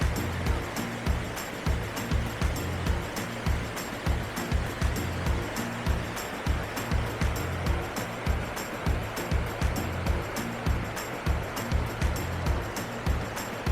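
A river rushes steadily and loudly nearby at a backpacking crossing, a broad continuous roar with a rhythmic pulsing thump running through it.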